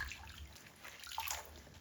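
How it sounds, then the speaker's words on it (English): Gloves being hand washed in soapy water, with faint quiet sloshing and a few drips. The sound is low and close, with no talking. "I am hand washing because I feel like this is a little bit gentler on the gloves."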